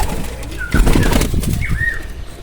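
A homing pigeon returning to its loft gives a short burst of close wing flaps, with soft bird calls around it.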